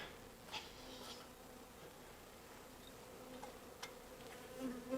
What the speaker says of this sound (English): Get out of there, bee.